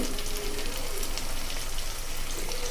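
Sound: turkey berries (sundakkai) frying in oil

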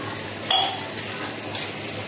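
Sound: water poured into pan of fried chicken for biryani

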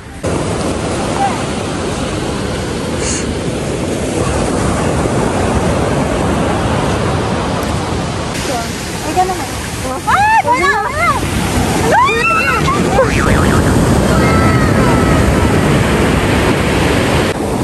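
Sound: strong ocean waves crashing on beach

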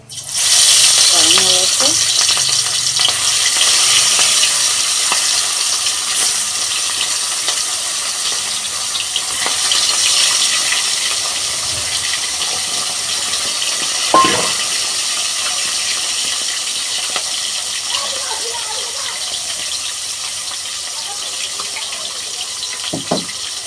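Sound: fish frying in oil in a wok

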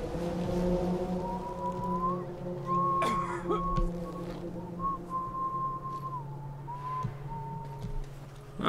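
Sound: out-of-tune whistling in Dishonored 2 video game

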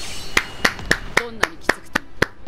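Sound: hand clap

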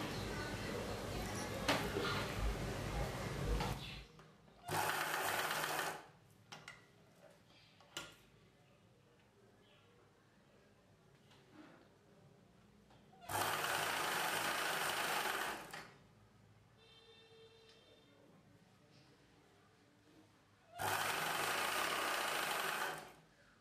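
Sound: sewing machine stitching blouse lining

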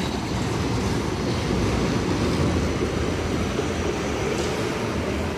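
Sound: tram moving past

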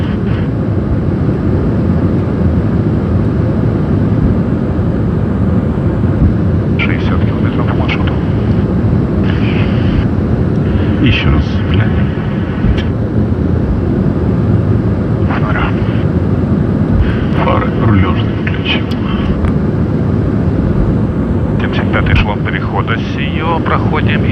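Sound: drone flying overhead

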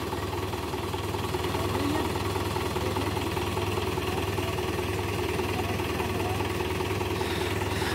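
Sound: Mahindra 575 tractor engine idling while stuck

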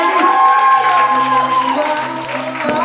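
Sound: applause for the newlyweds at a wedding

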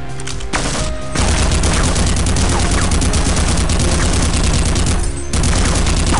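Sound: gunfire shooting soldiers in Half-Quake video game

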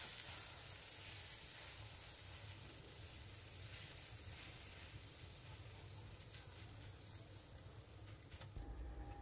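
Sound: three eggs frying in a pan

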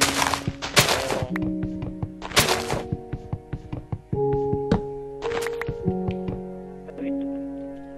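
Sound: chopping down trees in the video game Minecraft

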